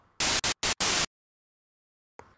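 Four short bursts of loud white noise in quick succession, abrupt on and off with hard cuts, followed by near silence and a faint brief sound at the end.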